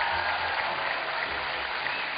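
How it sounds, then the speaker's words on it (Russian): A studio audience at a televised talent show applauds, a steady, even wash of clapping from many hands, moderately loud and uninterrupted. "Я думаю, что аплодисментов достаточно."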